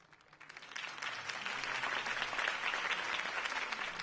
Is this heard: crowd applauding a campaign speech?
yes